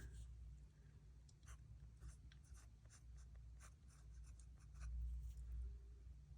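Fountain pen with ink writing on paper, faint close scratching strokes in short irregular bursts over a low steady hum.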